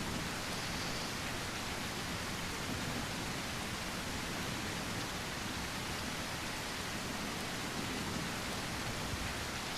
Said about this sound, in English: Just let me know in chat if that rain sound is too loud from the game.